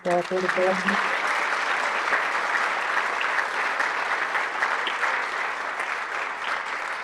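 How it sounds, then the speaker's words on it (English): Sustained applause from a large crowd at an annual awards gala, a dense, steady roar of clapping lasting several seconds, loud and even, with a brief voice heard just at the start. "Round of applause, please."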